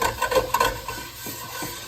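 Wine splashed into a hot pan to deglaze it for a New Orleans brucciloni sauce, giving a broad steady sizzle with a few scraping stirs, close and fairly loud with no talk.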